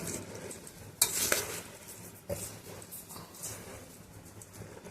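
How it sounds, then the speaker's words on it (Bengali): A spoon stirs jhalmuri, puffed rice mixed with fried spice powder, in a bowl: soft scraping and rustling with a couple of sharper clinks, fairly quiet and close. "ভাজা মশলাটা দিয়েও আর একটু নেড়ে নিচ্ছি।"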